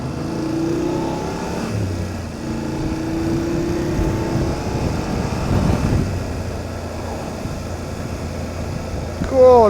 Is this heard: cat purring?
no